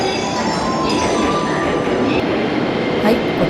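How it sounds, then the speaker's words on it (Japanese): A JR Takasaki Line train departs from platform 7, a loud steady rumble of wheels on rail filling the station with a brief squeal near the end. "こちら7番線から高 崎行きの電車が出発していきました"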